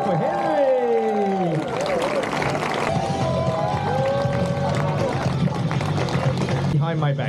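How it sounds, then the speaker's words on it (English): A street performance festival crowd in Linz claps and cheers steadily for a performer, a broad wash of applause underneath someone talking excitedly over it. "everybody clapping and cheering"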